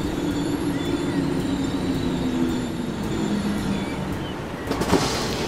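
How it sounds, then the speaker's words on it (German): Double-unit class 420 S-Bahn electric train in a Transport Fever 2 game scene, a continuous mid-level rolling rumble with faint wheel squeal and a short clatter near the end; no talking. "Mit Baureihe 420 in Doppeltraktion."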